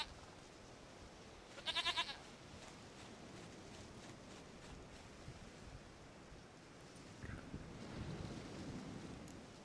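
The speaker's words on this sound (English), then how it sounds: "Goat of mine, dearest," Goat in The Witcher 3, a short burst of bleating near the start over a soft, steady ambient wash, followed by faint low rumbles, with no talk.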